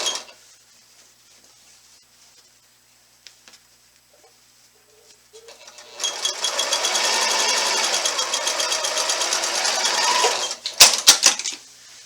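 A sewing machine stitches quilt binding in a fast, steady mechanical whir of rapid needle strokes for about five seconds after quiet handling noises, ending in a few sharp clicks and clacks; no voices.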